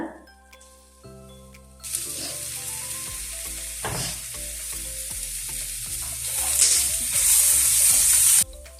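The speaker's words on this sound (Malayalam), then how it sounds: "നമ്മൾ പൊടിയെല്ലാം ചേർത്ത് നല്ലപോലെ വഴറ്റിയെടുത്തതിന് ശേഷം നമ്മൾ ഇതിലേക്ക് നൈസായിട്ട് അരിഞ്ഞ ഒരു തക്കാളിയും കൂടി ഒന്ന് ചേർത്ത് കൊടുക്കുന്നുണ്ട്" Spice powders and finely chopped tomato are sautéed in a pan, with a quiet start and then a louder, steady hiss of frying with stirring scrapes that swells near the end before stopping abruptly.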